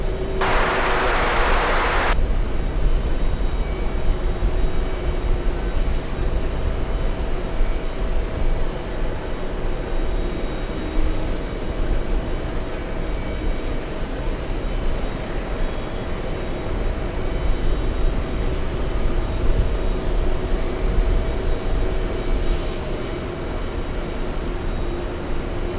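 At JFK airport a jet airliner on the move gives off a continuous, even roar and whine. The engine noise holds steady for the whole stretch, after a short burst of broadband hiss at the start.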